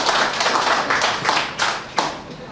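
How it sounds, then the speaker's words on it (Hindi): An audience at a Hindi comic poetry gathering claps in several short, loud bursts of applause, each quickly fading before the next rises. "ताली ताली तो जोरदार बजेगी"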